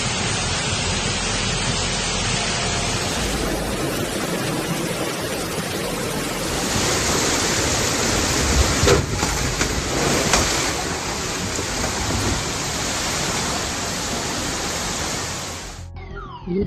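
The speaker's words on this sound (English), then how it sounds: "Typhoon Doksuri caused Beijing's river to surge to dangerously high levels" A broad, continuous roar of a Beijing river surging in flood during Typhoon Doksuri fills the whole stretch, swelling louder midway and staying steady and powerful until it cuts off.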